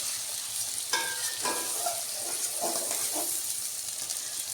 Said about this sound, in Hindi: ये देखें जी, प्याज को भूनते हुए 3 से 4 मिनट हो गए।